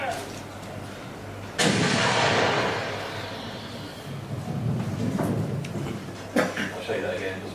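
A demonstration cannon fires a cannonball with a sudden sharp burst that fades into a long rushing decay, followed by two smaller thumps. The level is fairly quiet.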